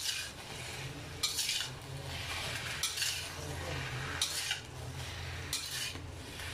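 Mushrooms stir-fried in a pan, with a soft steady sizzle beneath repeated scraping and clinking of a utensil against the pan in short strokes, fairly quiet and close.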